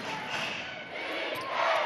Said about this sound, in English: Crowd in full voice now